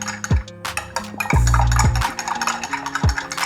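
A spoon stirs falooda milk in a bowl, making a few close, distinct clinks and swishing scrapes against the sides in an uneven rhythm.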